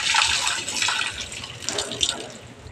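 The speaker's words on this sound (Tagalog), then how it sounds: "Hugasan natin yan. Para siyempre, pagkain natin, malinis." Food is rinsed under running tap water, a close continuous splashing and gushing with shifting bursts as it is handled, no speech.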